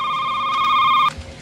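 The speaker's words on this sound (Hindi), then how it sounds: "Answer the phone." Telephone in a late-night convenience store horror video game, an electronic ring tone sustained for about a second before cutting off abruptly, loud and close.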